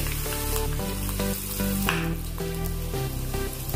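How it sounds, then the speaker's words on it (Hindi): Mustard seeds and spices sizzle and crackle in hot mustard oil in a pan while music plays loudly over it. "अभी इसको हम तड़का लगाएंगे। अभी हमने सरसों का तेल गरम किया है"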